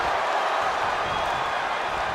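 A wrestling arena crowd cheers in WWE 2K25, a steady wash of roaring noise that fills the whole moment without breaks.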